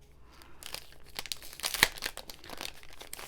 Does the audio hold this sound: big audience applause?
no